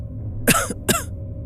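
A feverish person in a horror film coughs twice in quick succession, harsh and close, over a low steady hum, with no speech.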